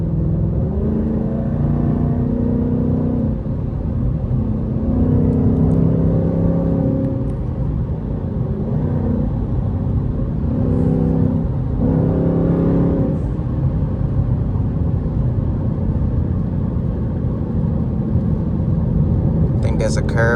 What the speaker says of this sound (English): Get this downshift going.